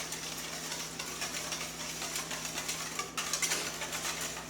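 A whisk beats pumpkin cream cheese muffin batter ingredients in a bowl, giving a quick, steady run of soft rhythmic scraping taps near the microphone, with a brief pause before the strokes pick up again.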